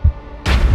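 A single sharp gunshot effect in an animated story cracks out abruptly after a brief faint thump, loud and close, ending the moment almost as soon as it begins.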